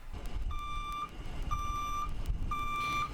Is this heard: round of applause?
no